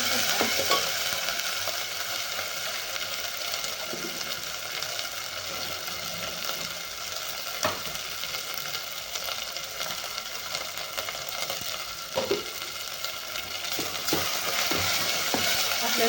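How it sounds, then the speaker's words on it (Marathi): Ground masala paste of roasted coconut, sesame and onion sizzles steadily in a pan while being stirred, with soft scraping and occasional clinks over a continuous frying hiss. "वाटण चांगलं परतून घ्यायचं आहे आता तसं आपण सगळं भाजलेलं आहे खोबरा खोबरं तीळ वगैरे सगळं भाजलेलं आहे कांदाही"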